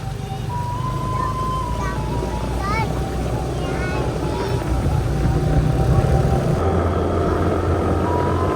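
A steady boat engine drones loud and close throughout, with wind rumble and a few faint whistling tones above it. Voices talk over it in places.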